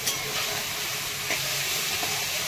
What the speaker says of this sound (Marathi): नारळ किसून घेतलेलं हे टाकून घेते। छान परतून घ्यायचं